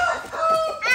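Aseel fighting chickens on a farm clucking and calling in short, high, wavering bursts at close range, with people talking over them.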